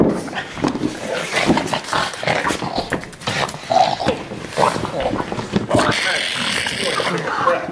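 A dog barks and makes excited vocal noises, close by and intermittent, while a person talks over and between the sounds.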